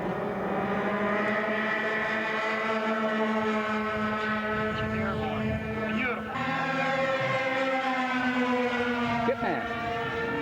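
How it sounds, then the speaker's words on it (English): Scale model aircraft taxiing out at an air show, its engine holding a steady, buzzing multi-harmonic drone with slight pitch shifts, fairly loud and continuous, with a voice talking briefly over it. "Skip Mast, taxiing out."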